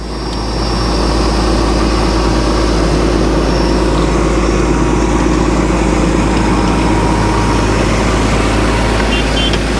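A Claas Axion tractor engine runs steadily while sowing beets in a field, a continuous loud low drone with a heavy, even rumble throughout and no break.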